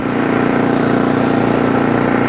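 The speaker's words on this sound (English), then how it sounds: "let's give these augers a spin here" Ariens Compact 24 snow blower with its engine running steadily and augers spinning, a loud continuous droning rumble close by with no talking.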